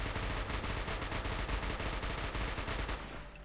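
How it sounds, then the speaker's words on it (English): Rapid automatic fire from a modded .308 rifle in Fallout 4, a steady dense stream of loud shots for about three seconds before trailing off. "So basically you can shoot like this and it fires like semi, or you can go rapid fire"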